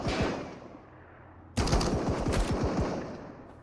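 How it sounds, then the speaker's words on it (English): Rifle fire in the shooter game Marauders: a rapid burst of loud shots, a pause with a fading echo tail, then a second sustained burst of close automatic fire ringing out. "This player's using a rifle."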